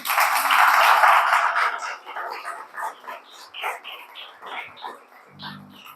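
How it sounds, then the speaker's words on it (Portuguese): A brief burst of clapping and applause from a church congregation during a worship service that quickly fades, followed by scattered murmurs and small sounds in a room. "Aplauda ao Senhor"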